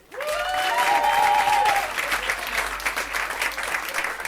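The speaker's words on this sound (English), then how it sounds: "Let's hear it for George Peacock." A comedy show audience bursts into loud applause with a few whoops for a comedian's introduction, then the clapping settles into steady, slightly softer applause.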